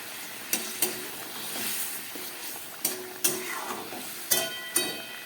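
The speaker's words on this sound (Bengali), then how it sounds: "তরকারিটা ফুটে উঠেছে" Pointed gourd and shrimp curry bubbling in a pan, a steady soft sizzling hiss broken by a few sharp clinks and spoon scrapes against the pan.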